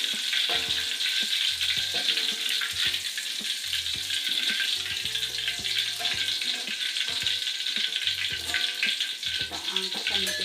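Andaliman pepper fries in oil for a Batak sambal, giving a dense, constant sizzle with intermittent scraping and stirring knocks from a utensil, close and fairly loud.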